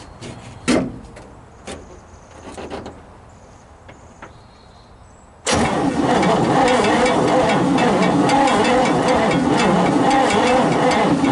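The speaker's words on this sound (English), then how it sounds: "let's pull the coil wire off and see if she'll spin over with the key." A 1957 Chevy big-window V8 pickup engine cranks over steadily on the key, a loud continuous churning that begins suddenly partway through after a few faint clicks and knocks, and keeps going to the end.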